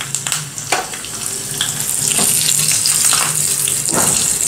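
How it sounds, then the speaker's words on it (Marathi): Cumin, green chili, curry leaves and asafoetida sizzle and crackle in a spoonful of hot oil for tempering, a close, loud, steady frying hiss with a few sharp pops and stirring scrapes. "जिरं तडतडलं की यामध्ये 1 हिरवी मिरची, कढीपत्ता आणि थोडासा हिंग घालूया"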